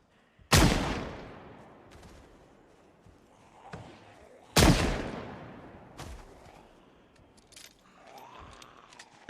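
Two loud, sharp gunshots from a gun in Project Zomboid ring out about four seconds apart, each followed by a decaying tail, with fainter clicks and thuds between them.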